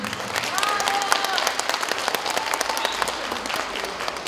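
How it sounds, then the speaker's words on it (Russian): Dense applause from a crowd at a community hall concert, steady and continuous throughout, with a brief voice near the start. "Аплодисменты."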